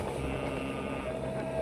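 Steady low drone of a passenger boat's motor carrying a large group across open water, with wind rushing past, continuous and fairly near, no talk.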